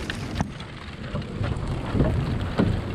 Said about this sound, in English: I thought the rain was letting up.